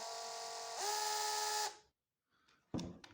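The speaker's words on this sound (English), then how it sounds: "Very slowly turning. That's what you want for screwing," A Bosch PSB 1800 cordless screwdriver runs slowly for under two seconds with a steady motor whine that rises slightly midway, then stops. A short sharp knock follows after a brief pause.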